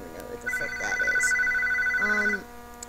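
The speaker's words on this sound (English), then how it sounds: "My phone is ringing." A mobile phone rings with a repeating electronic tone that starts after about half a second, sounds close and clear, and continues for roughly two seconds; a voice is heard briefly before and near the end.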